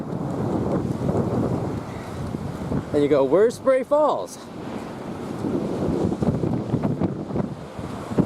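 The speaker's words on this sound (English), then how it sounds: "Pretty windy up here." Strong wind buffeting the microphone on a lakeside cliff outcrop at Pictured Rocks, a loud rumbling gusty roar that runs throughout, with a person speaking briefly midway.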